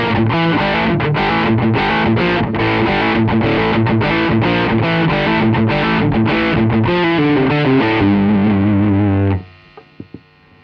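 Electric guitar played through a Dean Markley CD120 amp set to high gain, giving a distorted 80s rock-metal tone; loud, dense chords and riffs run for about nine seconds before cutting off, leaving a few faint clicks.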